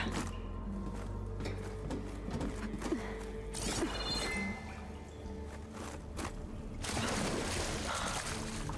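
Water pours and splashes in bursts inside a flooded dome in Horizon Forbidden West, gushing heavily in several surges with drips and sloshing between them.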